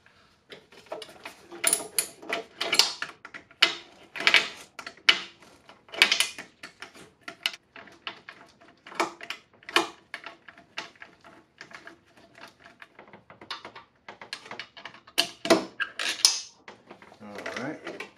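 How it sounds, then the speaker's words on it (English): A ratchet wrench clicks in quick irregular bursts while loosening a bolt on a 2008 Acura MDX engine, mixed with metallic clanks and rattles of tools nearby, close and crisp. "Let me grab a ratchet."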